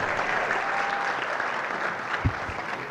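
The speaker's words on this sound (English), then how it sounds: "Let's give a round of applause." An audience at a university alumni festschrift event claps in a steady, moderately distant round of applause, with one brief thump partway through.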